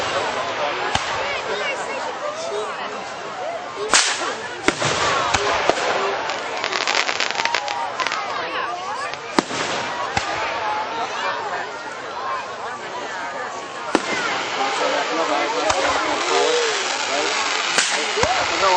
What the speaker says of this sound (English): You're supposed to just do fireworks.